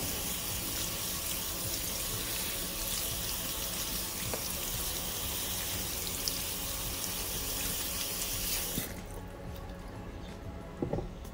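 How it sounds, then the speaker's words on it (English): Cold tap water gushes steadily over drained black beans in a sink for about nine seconds, then shuts off, leaving a few small clinks and handling sounds. "So I'm just going to wash them off with some cold water."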